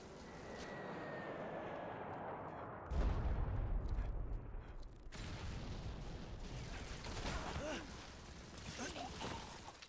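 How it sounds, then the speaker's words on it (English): Airstrike in Modern Combat 5 on PC: a heavy, booming explosion lands abruptly with a jet engine roar, followed by rumbling blasts and battle noise; a voice talks faintly underneath. "Airstrike incoming."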